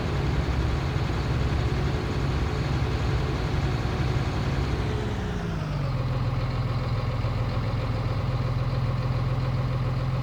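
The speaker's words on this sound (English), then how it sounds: "Enjoying this tractor very much." A tractor engine in Farming Simulator 19 drones steadily, its pitch dropping partway through as the revs settle into a lower, constant idle-like rumble, loud and continuous with no talk.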